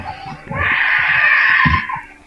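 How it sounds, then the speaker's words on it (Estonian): A child screams and cries at length, a loud sustained wail near the microphone, with low thumps and voices in the background, during a Minecraft session. "Mis kisa teil on seal kogu aeg?"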